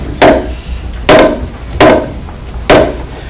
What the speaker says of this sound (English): I need you to hammer. Hammer.